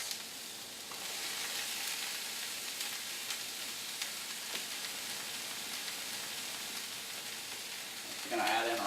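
Onions and broccoli florets sizzling in a skillet with olive or vegetable oil, a faint steady hiss that swells briefly at the end with a louder crackle.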